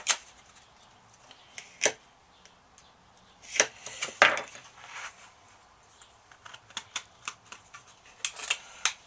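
Styrene sheet being scored for a Boba Fett helmet, heard as scattered sharp clicks and scratchy strokes that come close together in a few clusters, fairly faint in a quiet room.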